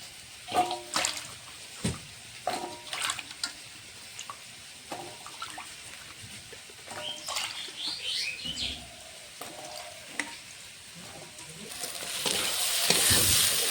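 Vegetables go into a hot pan beside cabbage ghonto for a vegetarian curry: soft sizzling with repeated scraping stir strokes close by, and faint birdsong in the background.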